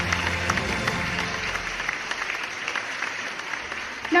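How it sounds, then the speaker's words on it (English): An audience applauds to welcome a guest onto a talk show, a steady spread of many hands clapping at moderate level that thins out toward the end, with faint voices underneath. "With big applause, let's welcome Miss Neena Gupta"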